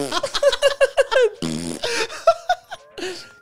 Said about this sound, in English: He farted his way to the end.